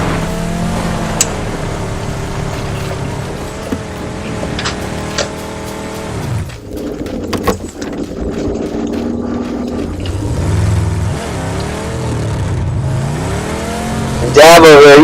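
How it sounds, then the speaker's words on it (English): A car in the PUBG video game revs and drives with rising and falling engine pitch, gear-like shifts and a sharp burst at the end, while voices talk over it. "he's just doing laps in the car"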